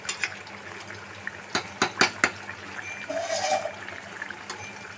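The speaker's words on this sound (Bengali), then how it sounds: "এবার আমি নেড়ে দিচ্ছি" A spoon stirs chicken curry in a cooking pot, several sharp metallic scrapes and knocks against the pot's sides, close and clear, followed by a softer sizzling and shuffling.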